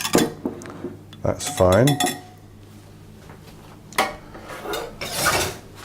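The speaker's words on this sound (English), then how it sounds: "mix those ingredients together" Blueberry muffin ingredients worked together in a bowl: clinking and scraping bursts of a utensil against the bowl, close and intermittent, with brief speech between strokes.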